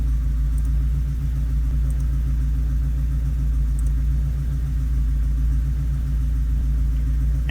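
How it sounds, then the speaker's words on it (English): A Subaru EA82T turbo engine runs steadily in a low, even rumble close by, settled at idle with no clear rise or fall in revs. "You get that nice flare up in the RPM when it starts, and then a gentle drop down"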